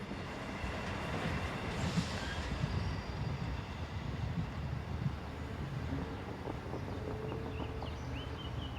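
A Class 628 diesel multiple unit, set 569, runs north from Burghausen to Mühldorf, its steady rail rumble and wheel noise heard at moderate distance throughout.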